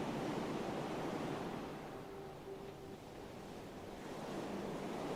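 Low-pitched ocean waves at night, a steady deep wash of surf with gentle swells rising and falling, soft and continuous with no voices.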